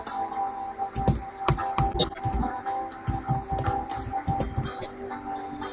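Rapid keystrokes on a computer keyboard while entering switch configuration commands in Packet Tracer, with clustered clicks and taps in an irregular rhythm, fairly close and continuous, over faint room noise.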